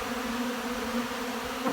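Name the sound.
many bees buzzing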